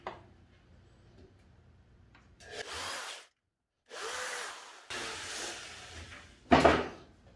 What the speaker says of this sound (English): I'm gonna just draw a little pilot hole in here.